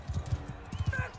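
Horse hooves clip-clop in a quick, uneven rhythm in Mount & Blade II: Bannerlord during a medieval tournament, fairly faint, with a few soft tonal game sounds near the end.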